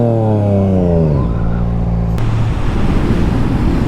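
A Yamaha MT09 motorcycle on a test ride, its engine note rising as it revs up, shifting, then giving way to a rushing roar of wind and road noise, loud and close.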